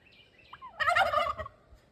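Homestead turkeys gobble nearby, one brief rattling gobble burst with a few shorter call notes before it, loud and clear against a quiet background.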